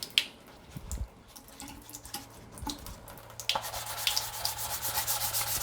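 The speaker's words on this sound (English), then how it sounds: "that's what we're going to do right now, is wet sand it" Light, rhythmic scratchy rubbing of wet sandpaper by hand on a Tamiya 1:14 Freightliner Cascadia model semi truck, quiet and close, growing denser and hissier in the second half, with faint drips of water.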